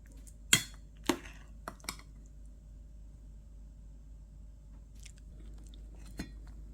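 Bibimbap topped with a fried egg being eaten, with a few crisp bites and chewing sounds early on, then quiet, faint mouth noises against a low background hum.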